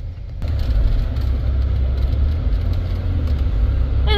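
A 2005 Chevy Trailblazer engine rumbles as the SUV pulls away, starting with a soft click and then holding a steady, loud low drone with road noise.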